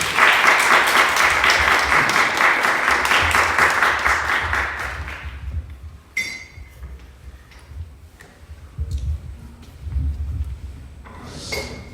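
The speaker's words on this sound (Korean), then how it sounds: "우리 같이 목사님 나오실 때 하나님께 감사의 박수, 영광의 박수 올려드리도록 하겠습니다" Church congregation applauding for the pastor: dense, loud clapping for about five seconds that then fades into scattered claps, light clinks and room noise.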